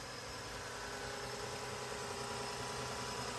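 2008 Toyota Solara 3.3 V6 engine idling while still cold, a faint, smooth, steady hum with no change in pitch.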